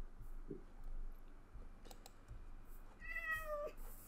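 A cat in Minecraft meows once near the end, a short rising-falling harmonic call over a quiet hum with faint clicks.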